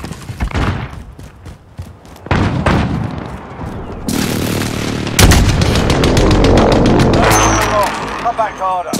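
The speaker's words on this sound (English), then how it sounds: "Enemy precision airstrike, take cover!" Booming precision airstrike explosions and gunfire in Call of Duty: Modern Warfare, loud heavy blasts layered with shots and rumble throughout, with a voice and game announcements mixed in.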